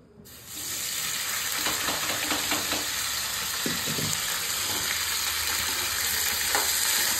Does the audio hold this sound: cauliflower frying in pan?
yes